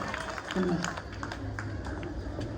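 A village audience at a Home Minister Paithani game show in Sutarwadi claps loudly, a steady, dense wash of applause running throughout with voices mixed in.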